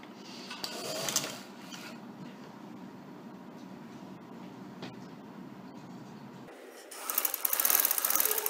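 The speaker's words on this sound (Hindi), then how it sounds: "अब इसे सिलाई लगाते हैं।" Sewing machine stitching fabric pieces together, a steady mechanical whirr running at moderate volume for several seconds, then giving way to a brighter, louder rattling burst near the end.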